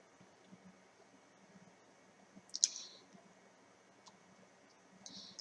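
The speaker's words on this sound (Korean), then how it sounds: "클릭." A single sharp computer mouse click, close and very faint, against near-silent background hiss, followed by a softer tick a couple of seconds later.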